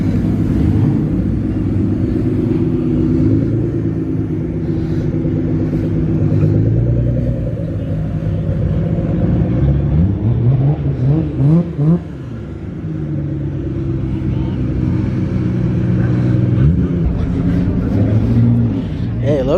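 Cars revving and rumbling at a packed car meet, engines droning steadily with a brief rise in revs midway, heard under nearby talk.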